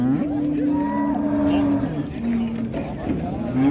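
Oxen and cattle at a busy livestock bazaar in Karshi, one close drawn-out moo followed by a second, with people talking in the background.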